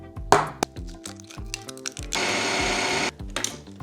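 A food processor minces chicken breast with onion, garlic, herbs and egg, with short pulsing bursts and thuds followed by one sustained whirring run of about a second, close and loud.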